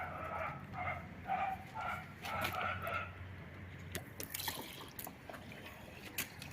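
Fuel flows from a canister into a car's tank with faint trickling and gurgling, air bubbling through in soft irregular glugs at close range.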